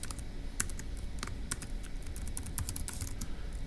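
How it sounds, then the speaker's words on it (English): Rapid, light keystrokes on a computer keyboard typing notes, a close, quiet run of irregular clicks over a faint room background. "So let's type that up in the notes for section E"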